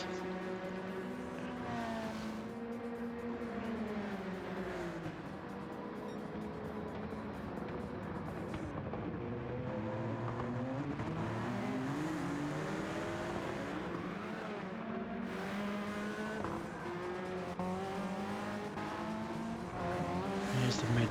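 Race cars lapping the Red Bull Ring in Gran Turismo 7, a pack of engines droning and shifting pitch together with rising and falling tones, passing cars and occasional tire squeal under steady commentary.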